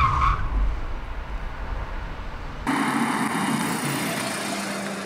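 A 2024 Ford Grand Tourneo Connect swerving hard through a moose-test avoidance manoeuvre, with rough engine and road rumble giving way to a sustained, loud hiss of tyres scrubbing and skidding across the pavement.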